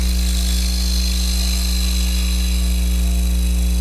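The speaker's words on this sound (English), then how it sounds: "you can flatten the cutter out and it'll cut a little bit more aggressively" A Hunter hollowing tool cuts a wooden bowl spinning on a lathe, giving a steady, loud whirring hum with a constant pitch and a bright, continuous scraping hiss that runs unbroken throughout.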